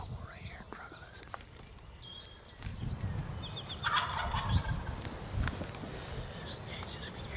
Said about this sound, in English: We just had a bird gobble right here in front of us